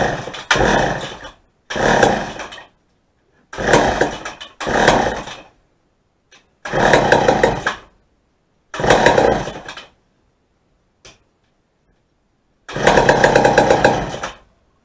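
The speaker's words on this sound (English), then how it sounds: "here we go with trying to start it." Repeated pull-start attempts on a 1958 McCulloch Mac 35A chainsaw: several short bursts of rough engine sputter separated by silent pauses, each dying out quickly.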